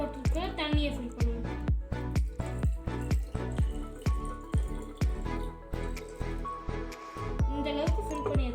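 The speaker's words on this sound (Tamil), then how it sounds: "ஃபர்ஸ்ட் இந்த கிளாஸ் பாட்டிலுக்குள்ள தண்ணியை ஃபில் பண்ணுவோம்." Water runs into a glass bottle as it is filled, heard as a steady series of close, rhythmic gurgling drips and splashes with no voices.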